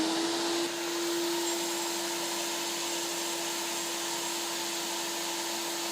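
A TUFVAC 30 dust extractor, measured at about 78 decibels from one meter away, drones steadily with a constant whooshing roar and a thin steady hum, unchanging throughout, no voices.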